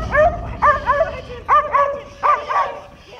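Belgian Malinois dog gives a series of close, loud barks and yips in four quick bursts with whimpering tones between them, with no talking.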